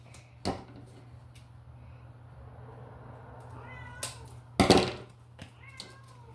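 An outdoor cat meows several times, with a sharp cry near the start and a cluster of louder meows toward the end over a low steady hum.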